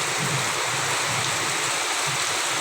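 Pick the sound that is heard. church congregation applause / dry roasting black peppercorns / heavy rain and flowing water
heavy rain and flowing water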